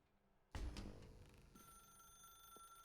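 A telephone rings in the video game The Stanley Parable, starting abruptly with a sharp bell strike and then sustaining a steady electronic ringing tone, fairly quiet overall.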